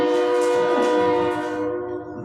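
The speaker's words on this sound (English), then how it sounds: "Whenever you feel comfortable with the train" A train passes close by during a city council meeting in Dunsmuir, its horn sounding a loud, sustained multi-tone chord over rumbling rail noise that gradually fades, with no talk.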